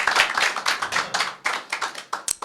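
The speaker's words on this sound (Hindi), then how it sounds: "वापस ताली बजा दी" An audience at a Christian prayer gathering claps back together, a loud, brisk run of hand claps with uneven bursts and no talking.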